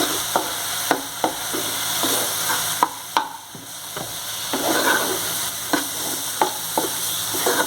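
A spoon or spatula scrapes and taps in a pan at an irregular rhythm over a steady, soft sizzle of food roasting for a Tamil sweet, close by with no voices.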